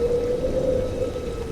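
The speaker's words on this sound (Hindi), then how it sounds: "चमकीली बिजली कड़कने लगी और फौरन ही मूसलाधार बारिश शुरू हो गई।" Cartoon-style storm effect of steady heavy rain hissing without pause, with a low rumbling thunder bed underneath, fairly loud and continuous with no voices.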